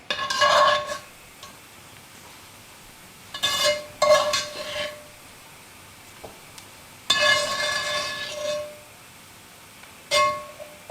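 A spoon stirs onion and garlic in a pan, with several short scraping, clinking bursts separated by quiet pauses, close and fairly loud.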